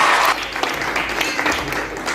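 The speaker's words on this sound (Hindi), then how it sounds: "तब जोर से ताली बजाएं, महफिल को शानदार बनाइए।" An audience at a party breaks into loud applause, a dense rush of clapping that eases slightly after the first moments and then carries on steadily to the end.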